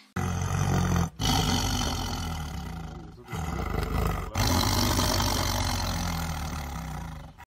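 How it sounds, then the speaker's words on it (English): A tiger's deep, loud roar sounds in three long bursts separated by brief pauses, close and alone. "T for tiger."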